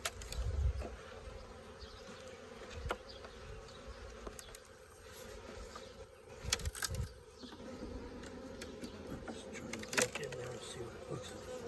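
Honeybee swarm that has moved into a hive box on a farm, a steady close insect buzz lasting throughout, with a few louder bursts and faint low background rumble.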